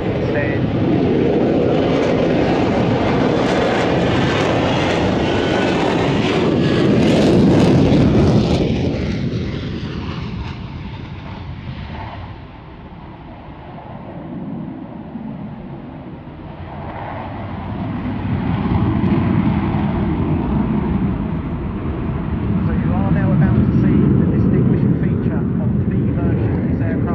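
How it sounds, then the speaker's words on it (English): A jet performs a rolling vertical landing at the 2024 Cosford airshow, a loud, sustained roaring thrust that swells, eases and surges again with a broad rumble, while an announcer talks over it. "Rolling vertical landing"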